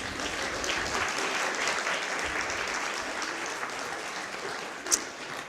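An audience claps for a children's folklore group at a cultural society performance, sustained dense applause that holds steady and then tapers slightly, with one sharp louder clap near the end.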